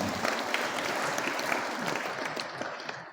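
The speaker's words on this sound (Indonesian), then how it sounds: "Tepuk tangan dulu untuk temanya." Crowd applause at a Central Java police headquarters religious gathering, dense and steady throughout, filling the space at moderate loudness with a faint murmur of voices beneath.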